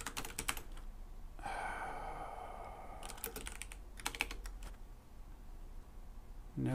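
Quick bursts of clacking on a computer keyboard come in short clusters separated by pauses, close and fairly quiet against a faint background hum.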